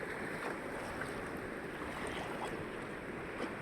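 Fast-flowing river water rushes steadily past a bathing ghat, a continuous broadband wash of moderate loudness with no voices and no distinct splashes or breaks.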